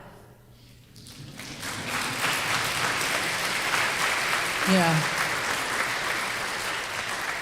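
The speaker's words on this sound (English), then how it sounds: "You can clap." Audience applause at a vigil for ICE victims, a broad wash of clapping building after a quieter start and holding steady, with a brief voice cutting in partway through.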